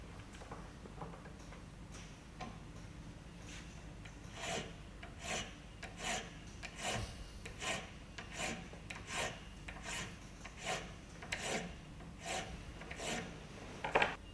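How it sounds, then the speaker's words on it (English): A penny clamped in a vise is hand-filed, giving a quiet, steady rasp of repeated back-and-forth strokes that grow more regular and pronounced midway, close up with no voices. "So put it in the vise, do it up, and start filing back the other way"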